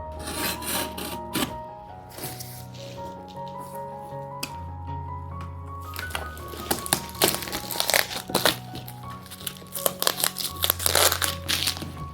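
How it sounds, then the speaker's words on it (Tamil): Plastic packaging crinkling and rustling close up while a parcel holding a badminton item is unboxed, steady handling with sharper crackles and rips growing busier toward the end, no talking. "ஸோ நான் இப்போ உங்களுக்கு அன்பாக்ஸ் பண்ணி காட்டுறேன்."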